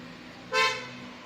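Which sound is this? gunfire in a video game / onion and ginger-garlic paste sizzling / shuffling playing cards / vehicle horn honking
vehicle horn honking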